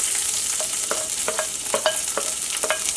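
Green chilli, ginger and garlic sizzle in hot oil for a Kerala chicken stew, with a steady crackling fry under repeated sharp stirring scrapes in a pan, close and fairly loud.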